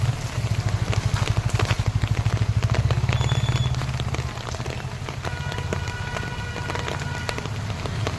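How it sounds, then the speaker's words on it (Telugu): Rain falls steadily in a dense pattering hiss, with a low engine-like rumble underneath for the first few seconds. "మళ్ళీ వర్షం స్టార్ట్ అయింది"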